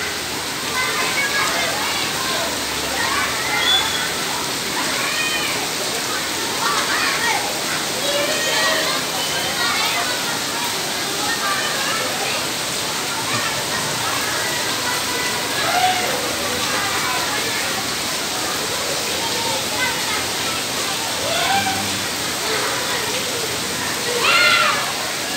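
Heavy rain pours steadily around a school building, a dense continuous hiss and splash with no letup, loud and close throughout.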